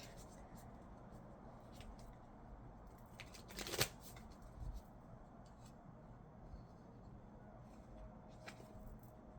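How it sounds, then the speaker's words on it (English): An oracle card deck from the Beyond Lemuria set being shuffled: a quiet, soft papery riffle with small flicks, and one brief louder burst of cards in the middle. "I'm gonna pick a card from the Beyond Lemuria deck."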